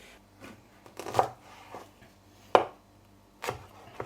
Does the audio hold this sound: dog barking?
no